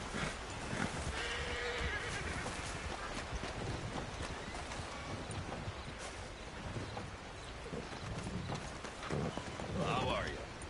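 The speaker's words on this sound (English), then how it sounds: "Wow, fine horse there." A horse in a PS4 video game whinnies and its hooves clip-clop steadily over a busy game soundscape, with faint birdsong and voice-like sounds in the background.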